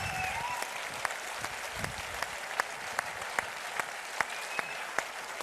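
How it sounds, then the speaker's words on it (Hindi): A large audience keeps up steady, dense applause at a motivational business event, with sharp individual claps popping out above the wash of clapping at a moderate distance. "प्लीज तालियां रुकनी नहीं चाहिए"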